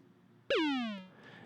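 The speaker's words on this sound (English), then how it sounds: "It's kind of like a little pitch sine wave noise." A small pitched sine-wave synth tone built in Ableton for a pop remake swoops up sharply, then glides slowly downward in pitch for about half a second before cutting off, heard alone and fairly close.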